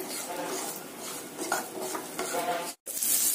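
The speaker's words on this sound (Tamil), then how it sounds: "முதல் நல்லா கொஞ்சம் சிவக்கிற மாதிரி சின்ன வெங்காயத்தை வணக்குங்க." Small onions and dried red chillies sizzling in hot oil in a pan for tomato kuzhambu, a soft continuous frying hiss with light scraping and stirring clatters close by, no talk.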